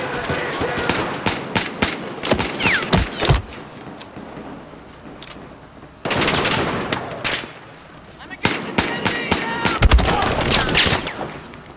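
Rapid bursts of gunfire in Battlefield 4, loud and close, with pistol shots and sharp volleys clustered in two intense stretches separated by a brief lull, over background battle ambience.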